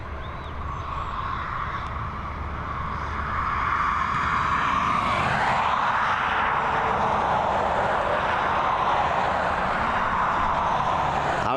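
A Luxair airliner at Dublin Airport produces a continuous, broad jet-engine roar that grows louder partway through and stays strong and steady.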